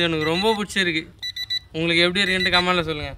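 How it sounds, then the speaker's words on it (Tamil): An RC speedboat lifted out of the water sounds its out-of-water alarm, a short series of repeated electronic beeps between stretches of someone talking close by. "தண்ணியிலேருந்து வெளியே எடுத்துட்டா கரெக்டாக அலாரம் அடிக்குது பார்த்தீங்களா"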